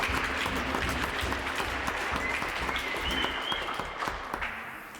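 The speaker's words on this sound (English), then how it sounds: "we'll give her a round of applause" An audience at the Unalakleet science fair claps for a first-place winner in the global warming category, producing full, steady applause that tapers slightly toward the end with no talking over it.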